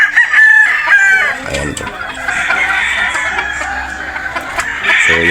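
Sweater Boston gamefowl roosters and hens at a game farm in Batangas, crowing loudly and clucking close by, several birds overlapping, with someone speaking briefly between calls.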